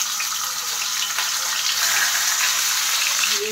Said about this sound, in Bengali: দিয়ে দেওয়া হচ্ছে এবারে ইলিশ মাছের মাথাগুলো তেলের মধ্যে।